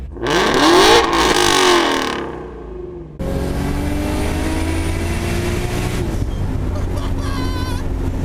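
A Ford Mustang GT350 with long tube headers revs hard with a loud rising exhaust roar, drops away, then settles into a steady, throaty rumble with wind buffeting the microphone.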